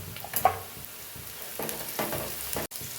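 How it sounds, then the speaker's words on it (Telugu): Onions with salt fry in a pan for chicken curry, crackling in a steady sizzle close by, broken by a few scraping stirs, with no talking. "గోల్డెన్ బ్రౌన్ కలర్ వచ్చేదాకా బాగా ఫ్రై చేసుకోవాలి"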